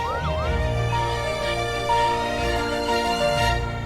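An ambulance siren wails loudly with rising and falling tones over a steady low hum, sustained for a few seconds.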